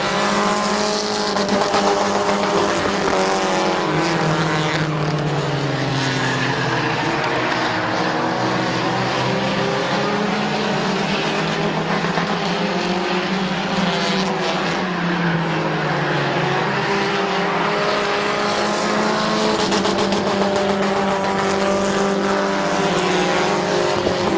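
Race cars roar around Midvale Speedway, a loud continuous engine drone with rising and falling pitch as cars pass, layered from several vehicles at once.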